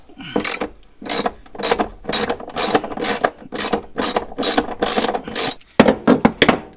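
A ratchet wrench loosens a 15 mm nut on a car battery terminal, about ten close, crisp clicking bursts in a steady back-and-forth rhythm with short pauses between strokes.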